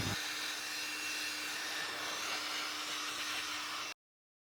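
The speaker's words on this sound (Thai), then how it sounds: "ตัวนี้ผมจะใช้เป่าทำความสะอาดฝุ่นของคอมเพรสเซอร์ตู้แช่นะครับ" An INGCO CABLI20018 cordless air blower, used to clear dust from a freezer compressor, gives a loud, steady rushing whoosh with a faint tonal whine, running evenly for about four seconds before cutting off abruptly.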